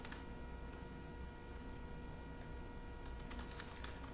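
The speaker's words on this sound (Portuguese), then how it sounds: "Conforme eu for digitando os valores e pressionando Tab para pular de" Rapid keystrokes on a computer keyboard as values are entered and the Tab key is pressed, a steady run of light clicks close by with no talking.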